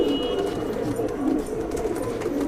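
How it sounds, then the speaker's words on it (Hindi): Madrasi pigeons on a rooftop give low, soft cooing under a steady outdoor hum, a close and continuous murmur without speech. "और भाई ये कबूतर मस्ती में घूमते हुए सारे के सारे।"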